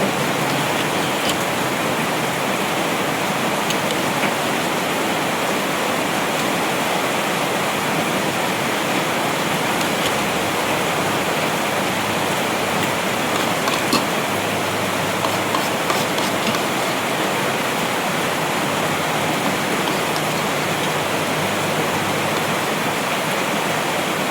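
Heavy rain pours steadily on a Monday afternoon, a dense, constant broadband hiss with faint scattered drips and patters standing out, loud and unbroken throughout with no voices.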